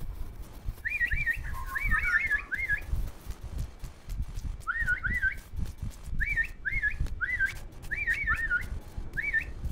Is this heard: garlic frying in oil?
no